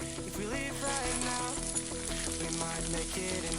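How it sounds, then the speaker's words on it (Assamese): Chopped onions and cumin fry in hot oil for chicken with bamboo shoot, a continuous close sizzle running under prominent background music. "পিঁয়াজখিনি গল্ডেন ব্ৰাউন নোহোৱালৈকে ৱেইট কৰিব আৰু ভালদৰে ভাজি ল'ব।"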